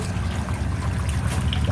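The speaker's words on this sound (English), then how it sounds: "Water's being pumped up here. That's all solar power, pumping that water up." Water driven by a solar-powered pump runs down the steps of a vertical aquaponic ladder system in a grow dome, making a steady close trickling, splashing rush with a low rumble beneath.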